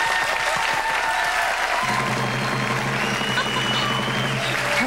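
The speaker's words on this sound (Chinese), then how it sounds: "少碰到有这么多的掌声。" Audience at a Buddhist talk-show gathering applauding steadily, dense continuous clapping throughout, with a low sustained hum or music tone joining partway in; no speech.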